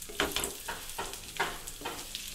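Chicken pieces for pickle fry in hot oil, a loud steady crackling sizzle with rhythmic surges, as if stirred, and no voices.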